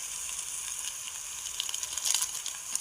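Water with Maggi masala comes to a boil in a pot, a close, steady bubbling hiss with small crackling pops that grow busier toward the end.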